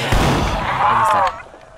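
A shotgun blast in the zombie shooter Project Lazarus, one loud close boom with a ringing tail that cuts off abruptly after about a second.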